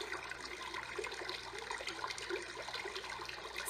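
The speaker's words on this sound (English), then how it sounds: "The brook." Brook sound from a Big Red Rooster 6 white noise machine: a continuous trickling, bubbling water stream, even and moderately loud throughout, no voices.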